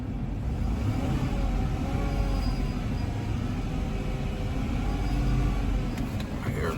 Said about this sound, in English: I hear an alternator.